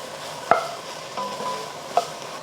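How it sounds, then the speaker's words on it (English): Onion and ginger are stir-fried in a pan, giving a quiet, steady sizzle broken by two sharp spatula clacks against the pan, with no voices. "I'm going to stir fry this for about 2 to 3 minutes, just until the onion is a bit softened"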